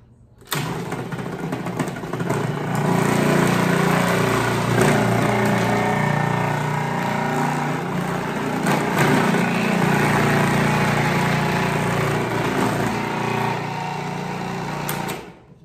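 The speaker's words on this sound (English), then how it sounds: "The next cheese I'm going to grate is my Parmesan. I mean, not grate, shred." A small electric kitchen machine shreds a block of Parmesan cheese, making a loud, continuous motor drone with gritty grinding that holds steady for most of the stretch before cutting off.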